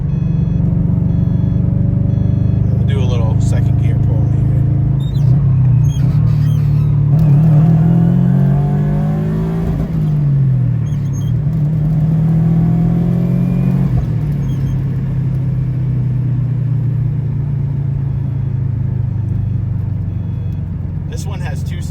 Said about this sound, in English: We'll do a little second gear pull here.